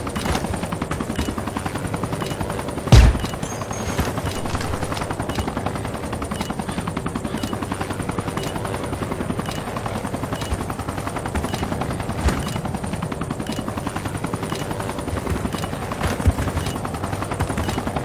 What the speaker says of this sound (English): Detected the enemy chopper